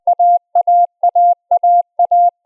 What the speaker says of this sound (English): That's the sound of alpha at a full 20 words per minute.